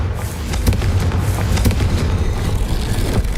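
A Confringo fire spell explosion in Hogwarts Legacy, a loud, sustained booming rumble with several sharp crackling bursts layered through it, no talk.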